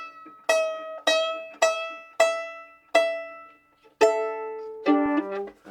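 Violin string plucked repeatedly while being adjusted with fine tuners: about seven evenly spaced, ringing plucks, each decaying quickly, with the pitch shifting on the last few notes.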